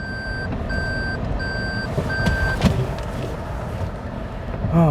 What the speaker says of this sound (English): Let's see if I can back out of here without getting hit by a car.